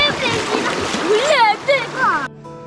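Water splashes and rushes at Anguthi Falls, a trekking waterfall near Yelagiri Hills, as a steady wash beneath clear voices talking close by.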